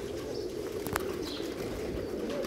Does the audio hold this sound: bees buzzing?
no